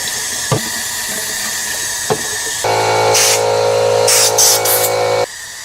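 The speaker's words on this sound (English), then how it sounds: "I turned the sink on." Water runs from a sink tap, a steady loud rushing hiss that starts a few seconds in after a couple of faint knocks and cuts off abruptly near the end.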